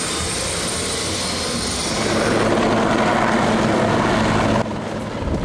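A loud, steady roar of a Helijet helicopter taking off close by, the engine and rotor noise swelling slightly before dropping off abruptly near the end.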